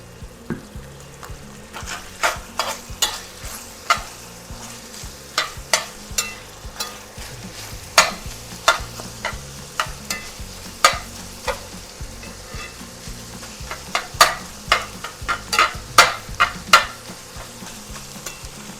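Red pepper flakes fry in hot oil with a steady sizzle, broken up by frequent sharp scraping and stirring clicks from a spoon against the pan, close and moderately loud throughout, with no voices.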